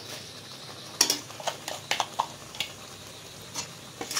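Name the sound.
stirring grated coconut into a pot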